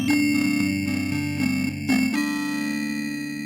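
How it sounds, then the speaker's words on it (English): Glitchy electronic distortion from a track, with sustained buzzing tones and harmonics that break and stutter in bursts before settling into a steady processed drone. "There is a sense of electronic glitching, isn't there? That distortion is very interesting."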